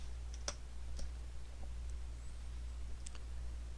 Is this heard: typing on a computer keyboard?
yes